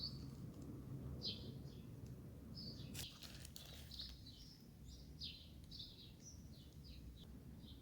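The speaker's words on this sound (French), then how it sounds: "vous profitez du bruit agréable des oiseaux" Small birds chirp and tweet in a city-centre garden, short bright calls repeating through the whole stretch over a soft, steady outdoor hum, with one brief rustle near the middle.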